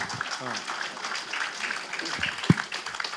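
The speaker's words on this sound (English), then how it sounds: "Come on, guys, clap for the students" An audience at a graduation ceremony applauds students, a steady wash of clapping with a few sharper claps standing out, while a voice speaks over it.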